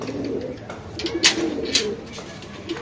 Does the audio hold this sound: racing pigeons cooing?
yes